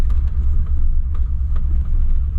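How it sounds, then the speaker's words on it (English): Land Rover Discovery engine running with a misfire, a steady low rumble close by with faint uneven pulses breaking through, no talk. "You can actually see that it's has a misfire"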